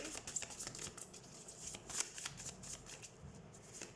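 Tarot cards being shuffled by hand at close range, a steady soft riffling and patter of card stock with a few sharper flicks.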